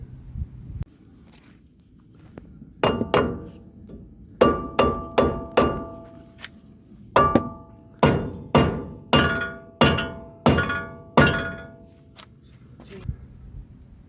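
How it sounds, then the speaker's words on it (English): Heavy hammer blows strike a rusted brake disc on a Fiat Fullback hub, loud metallic thunks landing in uneven bursts of several hits with short pauses between them. "Now it did require quite a bit of hammering."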